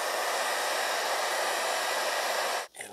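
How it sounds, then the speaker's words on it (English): A blow dryer blows a steady, loud, close whooshing roar while drying freshly dyed leather on a car seat, then cuts off abruptly near the end. "we can dry it really quick with the blow dryer"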